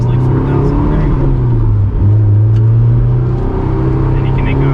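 A 2004 Honda S2000 (AP2) engine revs to around 4,000 rpm, a loud sustained rising engine tone inside the car, briefly dipping before climbing again, with people talking over it.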